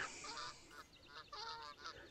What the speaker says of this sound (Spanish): ¿Cómo se ríe el pato de Lucas, eh?